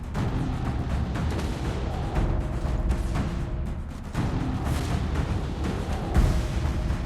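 Naval artillery fire booms aboard a warship in the Battleship video game, a dense series of heavy blasts rolling over continuous rumble at moderate level, with no voices.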